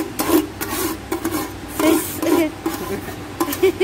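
Chopped potatoes tipped into a pan while cooking in a workplace kitchen, giving repeated scraping, rasping rubs in short bursts, with a voice talking over them.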